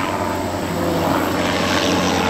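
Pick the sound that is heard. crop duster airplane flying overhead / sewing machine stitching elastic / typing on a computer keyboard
crop duster airplane flying overhead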